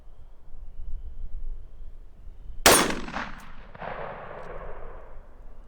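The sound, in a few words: rifle shots firing .223 Sergeant Major Munition ammunition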